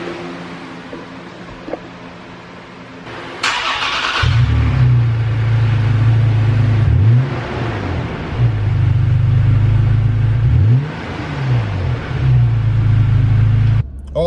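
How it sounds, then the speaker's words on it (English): Toyota Tacoma TRD with a TRD exhaust cold-starts with a sudden burst, then rumbles loudly up close with a deep idle broken by three or four quick revs that rise and fall, no voices over it. "do a little cold start with the TRD exhaust"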